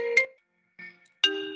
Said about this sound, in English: I'm getting that phone call.